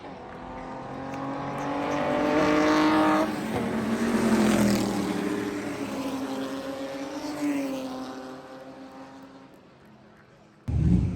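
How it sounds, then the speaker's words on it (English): A Ford GT40 race car, a Le Mans winner in 1968 and 1969, roars loudly past at the Goodwood Revival, its engine note swelling and fading over about ten seconds before another car bursts in at the end. "Ford GT40 that won Le Mans in 68 and 69"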